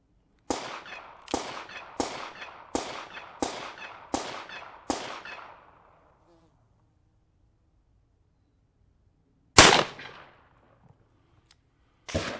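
Seven sharp, loud gunshots from a .40 S&W firing Speer Gold Dot 180 grain rounds into clear ballistics gelatin ring out in a steady rhythm, followed after a pause by one more shot and the start of another.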